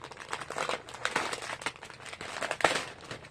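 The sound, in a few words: crinkling of fabric packaging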